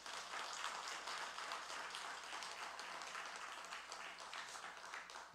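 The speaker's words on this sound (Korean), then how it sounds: "오늘 은퇴식까지 골인한 것을 함께 축하하는 박수로 함께 격려해 주시기 바랍니다" Faint, continuous congregational applause fills a church during a retirement celebration at an afternoon worship service, a wash of many hands clapping evenly without pause.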